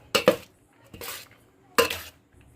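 Pulihora rice being stirred and mixed in a metal vessel, with a few sharp clinks and scrapes of a spoon against the pot in separate bursts, close and fairly quiet.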